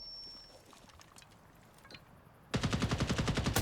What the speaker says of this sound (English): Really clean headshot.